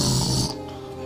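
A voice imitates a husband's snoring with one short, rasping, throaty snore that cuts off after half a second, leaving quiet.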